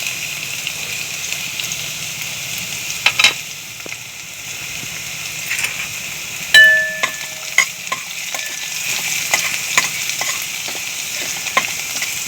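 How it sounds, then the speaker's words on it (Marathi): Garlic frying in hot oil in a pan gives a steady close sizzle and crackle, with occasional sharp stirring scrapes and clinks against the pan. "लसूण चांगला लाल रंग येईपर्यंत तळून घेऊ।"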